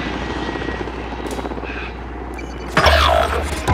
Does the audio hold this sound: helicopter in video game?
yes